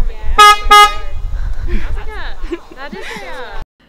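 A car horn blares twice in quick succession, loud and near, followed by people talking and laughing.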